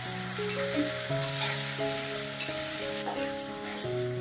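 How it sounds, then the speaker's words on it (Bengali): Mustard paste sizzles and is stirred in a hot pan while being cooked down for a Bengali mustard fish curry, a steady close frying hiss with soft scraping under a layer of music. "এবারে এটাকে ভালো করে একটু কষিয়ে নেব"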